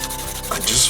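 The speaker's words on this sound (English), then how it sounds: "needs some hand sanding." A brief scratchy rubbing of sandpaper against a hammered copper bracelet, a quick abrasive hand-sanding stroke up close.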